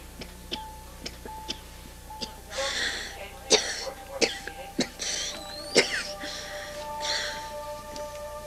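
A woman patient with pneumonia coughing in a quiet room, several rough, close coughs and throat-clearing bursts spaced over a few seconds, with faint ticking in the background.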